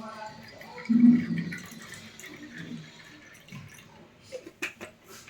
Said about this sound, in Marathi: पाणी मिक्स करून घेऊया